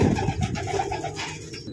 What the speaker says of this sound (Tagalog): At eto na yung ating Bio Pigeons bird.